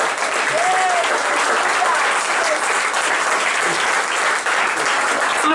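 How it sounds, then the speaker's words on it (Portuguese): A church congregation at Freedom Church in Bogotá applauding, dense sustained clapping from a large crowd filling the room, loud and continuous throughout. "Aplaudan el nombre de Jesús."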